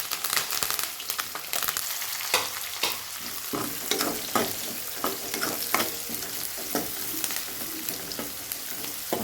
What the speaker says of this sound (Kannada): ಉಳ್ಳಾಗಡ್ಡಿ ಸ್ವಲ್ಪ ಫ್ರೈ ಆಗಬೇಕು, ಗೋಲ್ಡನ್ ಬ್ರೌನಿಶ್ ಕಲರ್ ಬರೋವರೆಗೂ ನೋಡಿ.